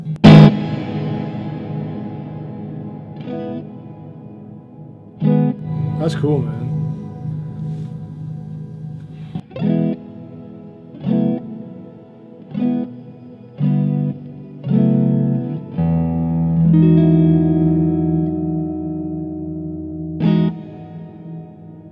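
Electric guitar notes and chords played through a reverb pedal ring out with heavy reverb, each pluck trailing into a washy tail, with a short spoken remark mixed in.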